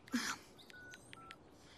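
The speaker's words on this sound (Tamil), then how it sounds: "முதல்ல உங்களுக்கு போனை போடுங்க" A telephone is dialed, a short sequence of four or five quiet keypad tones following a brief faint vocal sound.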